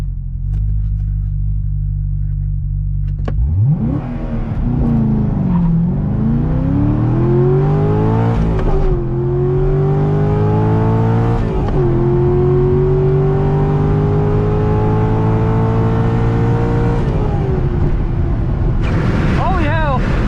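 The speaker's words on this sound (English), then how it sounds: "Let's try launch control again." A stock C6 Corvette Z06 launches off the line with launch control at a drag strip. It starts with a loud idle rumble, then the engine rises into a long hard-revving pull with a brief gear-change dip, and fades near the end.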